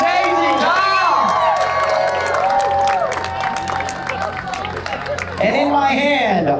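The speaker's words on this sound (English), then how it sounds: "can we please give a loud round of applause to all of our chef testants tonight" An audience at a live chef cooking competition in Lake Havasu claps and cheers for the contestants in sustained, dense applause, with shouts and whistles mixed in and a voice talking over the crowd.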